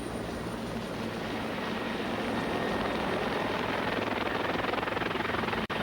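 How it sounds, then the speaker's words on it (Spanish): A military helicopter used by Norwegian Jäger commandos flies nearby, its rotor producing a steady, loud, rapid chopping thrum with engine whine, continuous and without talk. "Los Jägers utilizan el helicóptero como medio de inserción ideal."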